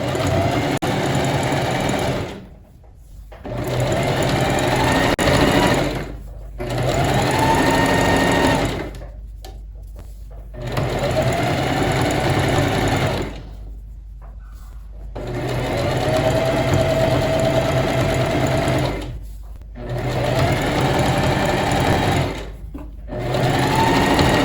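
A domestic sewing machine stitches a folded hem on sweatpants in loud, close bursts of several seconds each, separated by short pauses.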